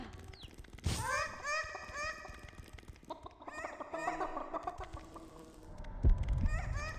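Chickens in the dungeon-management game Dungeon Keeper cluck and squawk in short repeated bursts, several separate calls spread across the stretch with quiet gaps, a low thud near the end.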